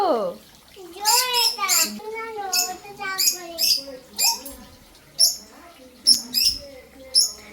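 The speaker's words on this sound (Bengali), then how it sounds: "এটা ককটেল পাখি" A cockatiel gives a series of short, bright chirps and whistles close by, with people talking around it.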